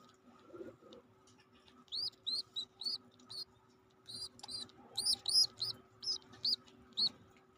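Pigeon squabs in a nest give thin, high repeated cheeping calls in short bursts, close and fairly faint against a quiet background, with no voices.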